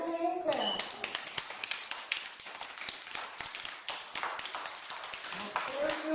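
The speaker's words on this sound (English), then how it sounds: "Give her a hand clap." A small group claps in a brisk, uneven patter for several seconds at an award presentation, with a voice speaking briefly at the start and end.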